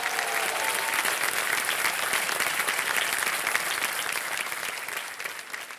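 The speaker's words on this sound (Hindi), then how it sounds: "तालियां बज जाएं" Studio audience applause on a televised junior quiz game show, a loud, continuous roar of many clapping hands that holds steady and then eases slightly toward the end.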